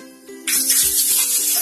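Sliced onions hit hot oil in a pan with whole spices such as cinnamon, clove and cardamom for a roadside-style salna, setting off a sudden loud, steady sizzle that carries on to the end.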